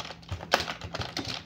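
Quick keystrokes on a computer keyboard as a command is typed, a short run of light, irregular clicks close by and fairly faint.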